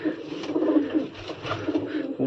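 Racing pigeons cooing close by, a steady run of low, throaty coos that overlap and swell without pause, with no talk over them.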